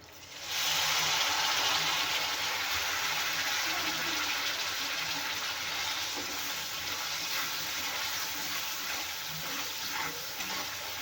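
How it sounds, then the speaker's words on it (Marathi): Tamarind water pours into frying masala in a hot pan for stuffed brinjal curry, setting off a loud, steady sizzle and bubbling hiss that continues without a break. "आता आपण चिंचचं पाणी घालूया याच्यामध्ये"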